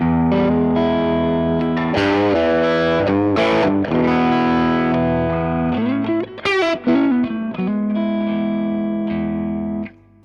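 Electric guitar through an overdrive pedal plays loud, gritty chords and quick riffs, sustained and crunchy, cutting off abruptly at the end.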